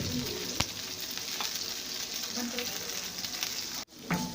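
Finely chopped onion frying in melted butter over a low flame, a steady soft sizzle with a few sharp clicks of a utensil and a brief dropout near the end.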